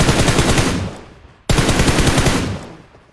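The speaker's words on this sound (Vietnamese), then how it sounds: "Bắn luôn. Bắn đi" Automatic gunfire from a video game rings out in two loud, rapid bursts, each fading away before the second starts sharply.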